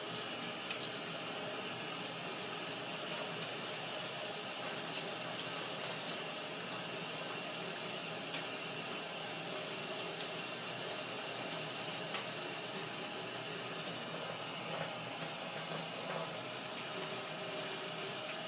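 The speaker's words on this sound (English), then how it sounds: "now I'll go ahead and wash my mushrooms" Tap water runs steadily into a kitchen sink while mushrooms are washed, a continuous even hiss and splash with no talking.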